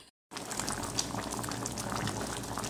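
Beans for feijoada boil in a pot, a steady close bubbling and seething that starts after a brief silence and continues evenly without talk.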